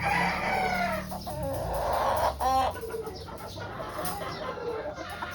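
Pure White Kelso rooster, a broodstag, clucking and crowing nearby, with a series of short throaty clucks and a bright crow rising midway, all fairly close and clear.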